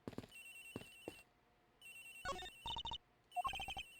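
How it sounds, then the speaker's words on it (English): Electronic phone ringing in the Ace Attorney Investigations video game, soft repeated trilling tones mixed with clicky dialogue blips and quiet background music, arriving in short bursts. "Agent Hicks' phone! It's ringing from somewhere, sir!"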